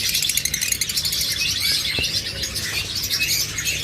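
A crowd of caged pet birds such as lovebirds, forpus, budgerigars, cockatiels and finches chatter with rapid, overlapping high chirps and tweets. The sound is close and continuous and carries over a low room hum.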